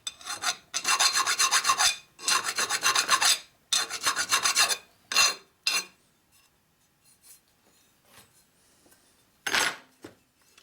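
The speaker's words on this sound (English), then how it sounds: "chamfer these holes here" A hand chamfer tool rasps around drilled holes in the metal of a 1957 Harley panhead head, deburring them in several close, scraping strokes of a second or two each, then a few shorter scrapes and quiet handling.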